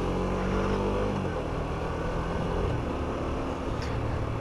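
A small motorcycle of about 15 brake horsepower idling and running, a steady low engine drone with a slight dip partway through, heard close with no talking.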